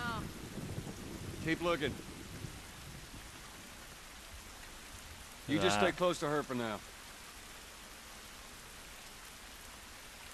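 Steady rainfall and a rumbling thunderstorm wash through a scene in The Last of Us Remastered, a constant downpour with rolling thunder beneath two short stretches of voiced dialogue.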